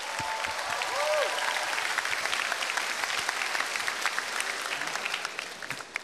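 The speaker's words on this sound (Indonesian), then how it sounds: "Tepuk tangan buat Koide." A studio audience at a stand-up comedy show applauds for a comedian in a dense, steady burst of clapping that tapers off toward the end, with a brief whistle near the start.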